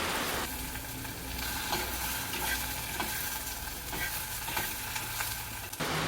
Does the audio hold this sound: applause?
no